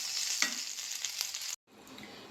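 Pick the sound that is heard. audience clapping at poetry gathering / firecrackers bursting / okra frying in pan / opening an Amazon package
okra frying in pan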